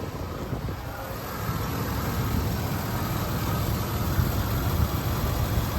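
A 2005 Ford E-350 Super Duty van with a 16-valve 5.4 liter V8 idles with a steady, close, even rumble and a faint high whine, with no voices.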